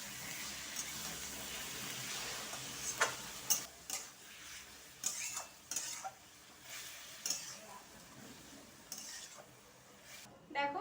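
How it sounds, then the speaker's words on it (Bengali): Mutton keema fries in oil over a low gas flame, a soft steady sizzle broken by repeated scraping stirs and light clinks of a spoon against the pan. "মটন কিমাটা আমি তেলের ওপর দিয়ে দেব, তারপর থেকে গ্যাসের ফ্লেমটা লোয়ে রেখেই আমাকে ভাজতে হবে"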